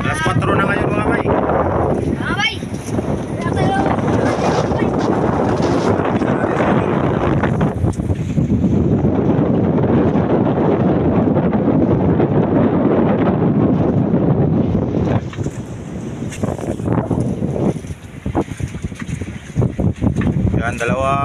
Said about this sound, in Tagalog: lalakas ng hangin, oh